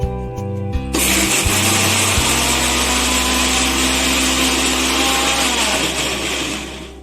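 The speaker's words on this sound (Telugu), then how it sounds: "మిక్సీ జార్లో మనం అన్ని వేసేసుకొని మిక్సీ పట్టేసుకుందాము" A kitchen mixer grinder blends spice ingredients for a bitter gourd fry, with a short stop-start at first and then a loud, steady whirring motor that runs alone for several seconds.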